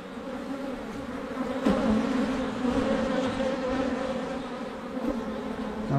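A small swarm of honeybees hums steadily and continuously at close range, a dense, even buzz that swells slightly at moments, with no voices over it.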